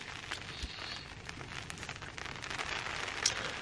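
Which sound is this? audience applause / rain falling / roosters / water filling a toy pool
rain falling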